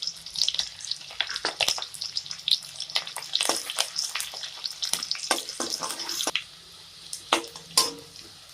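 Sliced garlic and green chillies frying in a pan, a crackling sizzle of bursting pops and spits over a low hiss, busier at first and thinning to scattered crackles near the end.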